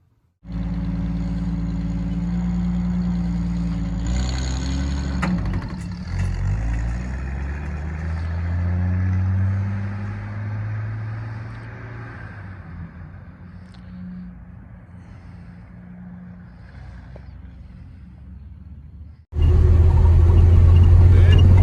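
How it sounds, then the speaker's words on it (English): A 1949-1953 Ford car, newly converted to disc brakes, rumbles through a low engine drone on a test drive, rising and falling as it accelerates and shifts, then turns loud and steady near the end. "I think it's time to go for a test drive."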